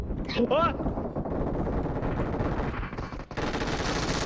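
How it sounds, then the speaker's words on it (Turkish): Machine-gun style bursts of gunfire from a prone player in PUBG Mobile rattle steadily under a busy game soundscape, with a short shout early on and talk over the shooting. "yatarak sıkıyor birisi"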